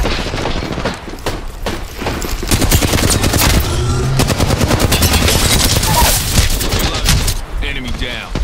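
Rapid bursts of automatic gunfire from an Apex Legends firefight, dense and loud, with overlapping shots and impacts running almost continuously throughout.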